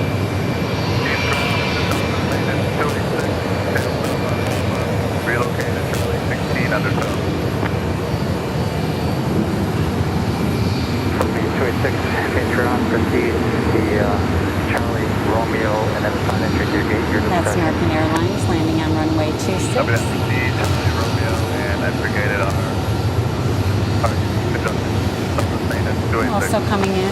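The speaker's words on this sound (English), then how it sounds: "So coming in on 26 is Flight 5847 from Rapid City" Airliner on approach to runway 26 at Phoenix Sky Harbor Airport, a sustained jet engine roar that holds steady and loud throughout, with faint talk beneath it.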